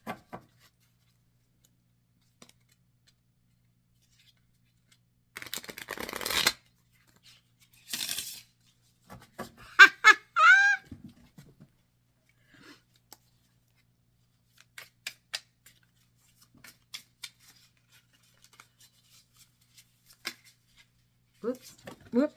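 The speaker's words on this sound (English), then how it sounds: "it's so hard for me to shuffle the big deck" Bursts of riffling and flapping as a large deck of cards is shuffled, a few quick rounds separated by quiet gaps, with soft scattered clicks.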